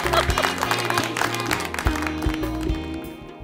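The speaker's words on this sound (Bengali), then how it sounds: "আরো একবার করতালি হবে" An audience claps for a young finalist on a children's musical reality show stage, dense applause filling the moment with music-like tonal sound mixed in, fairly loud and continuous before tapering.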